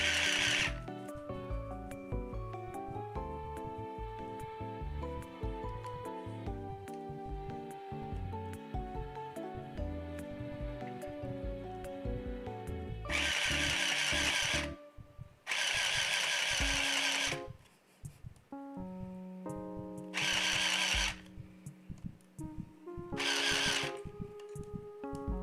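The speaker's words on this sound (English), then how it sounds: "I'm sewing in anticipation." A sewing machine stitches in runs, its rapid mechanical whir starting and stopping in bursts over steady background music.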